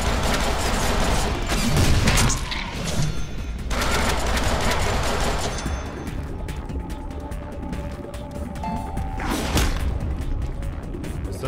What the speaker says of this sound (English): I am shooting you!